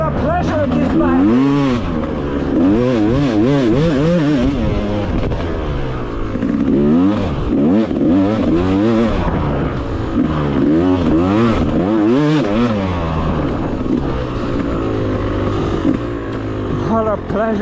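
A Yamaha YZ250X two-stroke dirt bike is ridden hard, its engine revving up and down in continuous loud warbling cycles close to the mic.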